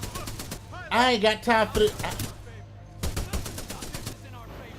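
Gunfire in the Titanfall video game, bursts of rapid shots at the start and again near the end, with someone talking over the middle.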